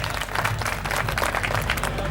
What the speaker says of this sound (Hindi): एक बार जोरदार तालियां बजाओ आप